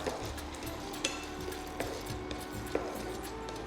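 Jaggery powder being stirred into a tamarind rice mixture in a pan, soft scraping and faint sizzling with a few light spoon clinks against the pan, quiet and close.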